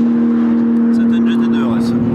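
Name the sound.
Porsche 911 GT2 RS passing by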